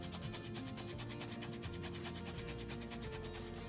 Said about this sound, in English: we're going to take our lime and we're going to zest it into the cake mix